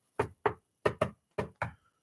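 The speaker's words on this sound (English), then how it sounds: "oh, a secret knock" A secret-knock pattern of six sharp knocks, grouped in close pairs with short gaps between them, sounds clear and near in an otherwise quiet setting.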